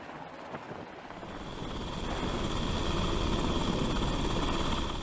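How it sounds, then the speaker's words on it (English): A helicopter's rotor and engine build from a faint drone into a loud, steady whirring roar that holds to the end. "When a helicopter is deployed to transfer fuel or any other goods."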